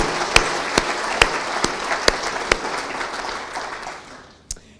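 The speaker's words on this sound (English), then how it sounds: "So let's have a round of applause for all of you." Audience applause after a CEO's annual state-of-the-company address, a dense wash of clapping with a few sharp individual claps popping out, fading toward the end with one last stray clap.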